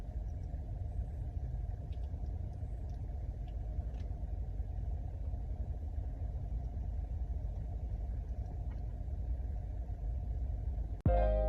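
A car's engine rumbles on the road, a steady low drone that ends in an abrupt thump.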